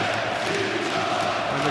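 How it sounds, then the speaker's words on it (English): A dense, loud arena crowd roars and cheers continuously at a 2012 European handball championship match between Poland and Serbia, filling the whole moment. "the crowd getting louder and louder in the hall here"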